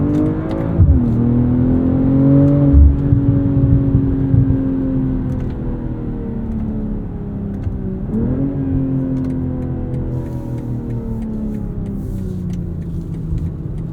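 A BMW M340i xDrive inline engine revs loud and close in manual mode, its pitch sweeping up toward redline, dropping briefly at a gear change around a third of the way through, then climbing again with a steady droning rumble.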